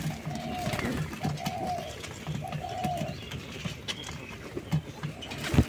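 Pigeons scuffle and fight at close range during their moulting season, with repeated soft cooing calls and faint flapping and clatter beneath them.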